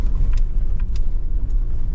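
Ford Explorer 3G driving along a forest dirt road in Karelia, a loud, steady low rumble of engine and tires with a few brief rattles and knocks from the road surface.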